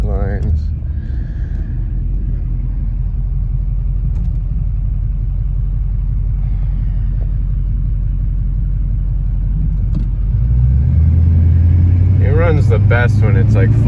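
A 2003 GMC Sierra 2500HD pickup with a Duramax diesel engine drives with a steady, close, low engine rumble. A person talks over it, and the engine grows louder near the end.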